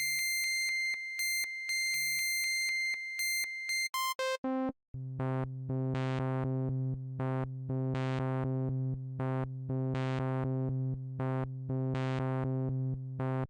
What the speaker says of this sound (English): it's a long sustained note